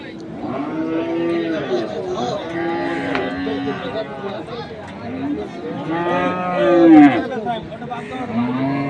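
Crossbred bulls and other cattle moo repeatedly at a busy rural cattle market in Ambari, Dinajpur, their loud, drawn-out calls rising over steady crowd chatter and nearby talking.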